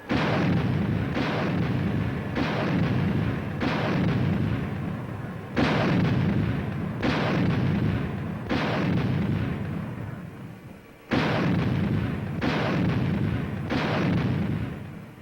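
Army artillery guns firing at a range at Fort Bliss, a series of loud, heavy booming blasts repeating every second or two, each with a rumbling tail, continuing with no voices.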